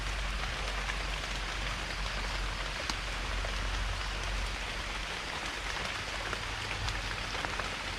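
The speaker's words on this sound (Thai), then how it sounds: "ฝนตกแห้งฝนตกอย่างหนักเลยครับ" Heavy rain pours down in a forest during mushroom picking, a constant dense hiss of drops striking leaves and muddy ground, steady and enveloping with no voices.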